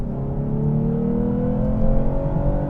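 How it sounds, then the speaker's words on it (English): A 2024 Lexus IS 350 F Sport with its V6 pulls onto a highway, the engine note rising steadily under acceleration, heard from inside the cabin as a continuous close drone. "Getting onto the highway, seeing how the acceleration is"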